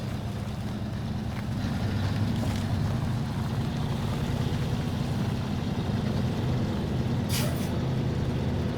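A Fleetstar truck mod in SnowRunner grinds uphill with a steady, loud engine drone and low rumble throughout, joined by a brief hiss near the end.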